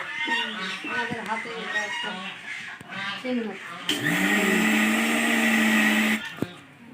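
After a few seconds of people talking, a mixer grinder loudly whirs for about two seconds while grinding henna paste, then stops abruptly.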